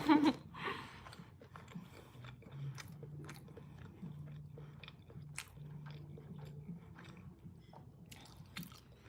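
A person munches food close to the mic during a late-night livestream, with a steady run of soft crunching and biting sounds over a low background hum and no talking.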